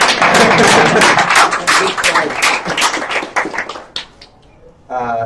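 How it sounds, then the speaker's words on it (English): A seminar audience at a hackathon claps together, a dense burst of hand claps that thins out into a few scattered claps and then fades, followed by a short spoken voice at the end. "I think we should clap for that"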